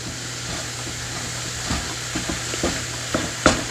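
Turkey stir-fry sizzles in a pan as it is stirred, with a steady hiss broken by repeated scraping and knocking strokes of a utensil, the last one loudest.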